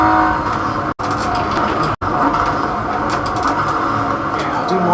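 A Nissan GT-R in the Forza Motorsport 7 racing game gives a steady, loud engine roar that drones without a break, with a couple of abrupt momentary cutouts.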